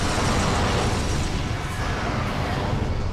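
A power bomb explosion in the Metroid Prime video game, heard as a loud, sustained rumbling blast with a low roar that fills the whole three seconds and never lets up.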